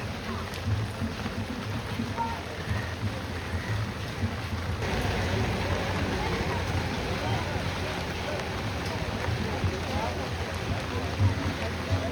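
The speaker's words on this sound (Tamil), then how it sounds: "இங்கே பாருங்க எந்த அளவுக்கு மழை பெஞ்சு கொண்டிருக்குன்னு சொல்லி" Heavy rain pours steadily over a crowded temple festival during a Thaipusam milk-pot procession in Jaffna, a dense constant hiss throughout with voices of the crowd mixed beneath it.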